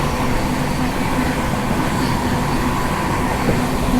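The Ranchi Garib Rath Express 12878 passes at a railway crossing, filling the air with a continuous loud rumble and roar of rolling wagons, steady throughout and with no voices.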